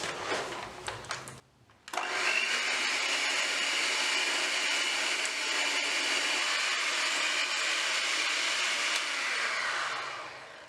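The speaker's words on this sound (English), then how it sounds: "Then we're going to continue whisking." An electric mixer or whisk beats butter in a mixing bowl for a funfetti cake, a loud continuous whirring drone that runs nearly unbroken after a brief pause near the start.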